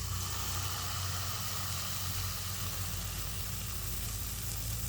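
Hotcake batter fries in a little oil with a steady, close, even sizzle that runs unbroken for about five seconds, with no talking.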